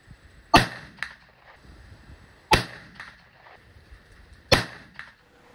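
Muzzleloader rifle shots using Triple 7 Magnum pellets and 290 grain bullets: three sharp, loud reports about two seconds apart, each followed by a short echo, with quiet outdoor ambience between.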